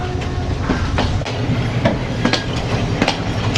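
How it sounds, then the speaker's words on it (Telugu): An old train rolling along a railway line near Ella, Sri Lanka, with a loud, close, steady rumble and a regular clickety-clack of wheels over rail joints, and no voices. "పాత ట్రైను."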